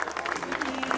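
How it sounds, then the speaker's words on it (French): Spectators at a team presentation for the Classic Grand Besançon cycling race applaud the Evo Pro Racing squad, a brief, steady wash of clapping from a crowd, moderately distant, with an announcer's voice over it. "Tous vos applaudissements s'il vous plaît pour cette équipe d'Evo Pro Racing."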